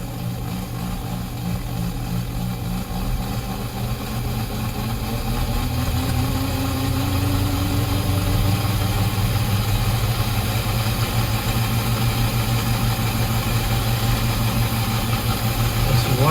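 An inherited #322 model steam engine runs at wide-open throttle in reverse, giving off a steady, loud motor whir and hum that grows a little stronger partway through and carries on with no talk.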